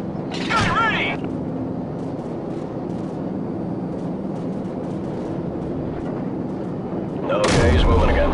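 Heavy air support cannon fire from Call of Duty 4: Modern Warfare, with loud booming shots near the start and again at the end over a dense, rumbling battlefield background.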